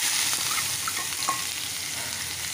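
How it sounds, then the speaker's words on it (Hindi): Finely chopped onion fries in a pan with whole spices, ajwain and hing, giving a steady close sizzle with the soft scrape of stirring throughout. "प्याज को मैं हल्का सॉफ्ट होने तक भून लेती हूँ"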